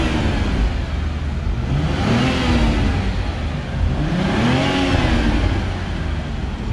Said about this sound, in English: We got some revs going on over there.